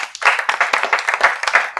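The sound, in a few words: audience applause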